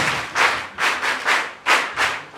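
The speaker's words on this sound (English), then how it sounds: "All the guests, you clap yourselves." Guests at a charity foundation event clap for themselves in about six distinct bursts of applause, each swelling and fading in quick succession, fairly close and loud with no talking over it.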